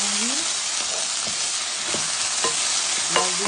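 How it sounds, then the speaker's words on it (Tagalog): Garlic, onion and celery sauté in a pan for pancit, giving a steady loud sizzle and hiss with scattered stirring clatters and scrapes throughout, with no voices. "Ginisa na natin sa bawang,"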